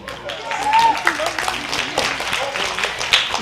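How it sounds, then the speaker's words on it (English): Audience in a church breaks into scattered clapping and cheering, moderately close, with people talking and calling out over the applause throughout. "First 3 people clap."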